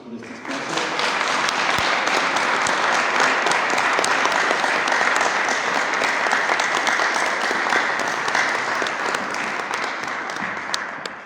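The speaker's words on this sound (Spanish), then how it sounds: "le brindemos un voto de aplausos por este espacio" Sustained audience applause during a public dialogue event at a national art museum, steady and loud, a dense field of many hands clapping with no break for about eleven seconds before easing off slightly at the end.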